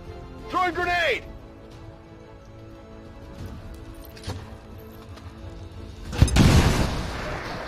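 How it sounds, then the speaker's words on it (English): A grenade goes off in the X-COM 2 video game as one loud, close blast near the end, fading into a rumbling tail after quieter game sounds. "How about I grenade it instead?"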